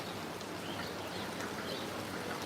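Heavy rain falls steadily in a Brahmanbaria village, an unbroken soft hiss of drops on surfaces, faint and even throughout, with no voices.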